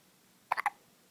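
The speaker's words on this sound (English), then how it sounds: "Got some major hiccups going on" A young child hiccups in three quick, close, fairly loud bursts in a row, otherwise quiet with no talking.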